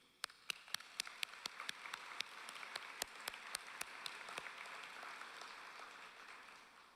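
Guests at a fall convocation ceremony are thanked with applause: a few distinct, loud nearby claps stand out at first over a broad, fainter crowd clapping that swells and then fades.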